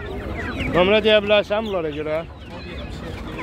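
Roosters for sale at a poultry market in Ganja make short clucking and squawking calls, heard close and mixed in with people talking.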